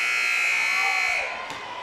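A loud, sustained buzzer blares close by to end the third quarter of a boys' JV high school basketball game in a gym, then cuts off into crowd noise.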